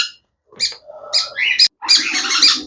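Pet parrots and conures at a Mirpur bird market give bright, squawking calls in short bursts, a few separate cries followed by a denser run of chatter, close and fairly loud with no talk over them.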